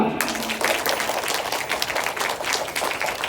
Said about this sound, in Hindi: इस बात के लिए जोरदार तालियां